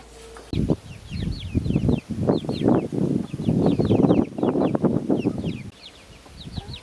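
Farmyard hens cluck busily in a steady, overlapping chorus close by, with sharper squawks rising over the dense clucking and no one speaking.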